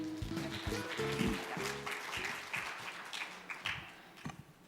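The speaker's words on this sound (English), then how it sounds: "with a big round of applause" Audience applause welcomes a speaker to the stage at an international housing and urban finance forum, a steady wash of clapping throughout with some low tonal sound mixed in early on.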